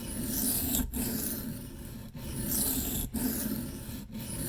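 A 1095 high-carbon steel Old Timer Bruin knife is sharpened free hand, with rhythmic rasping strokes across the stone, four or five passes broken by short pauses, close and fairly quiet.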